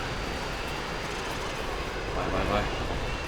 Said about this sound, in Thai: มีเครื่องบินเจ็ตมารอ เครื่องบินเจ็ตของอเมริกันตกตรงนี้นะครับ